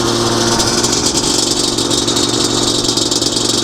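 A Yamaha Banshee quad idles loudly and steadily while warming up after a clutch change. The engine hums with a continuous rattly drone up close and no talk.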